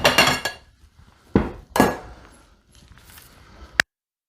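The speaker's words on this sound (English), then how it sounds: "Let's get some plates out here." Plates and dishes clatter as they are taken out and set down in a home kitchen during pork leg butchering, several sharp ceramic knocks and clinks spread over a few seconds, ending with one bright clink.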